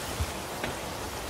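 Rain falls in a steady, soft wash of hiss with a faint patter, brief and without voices.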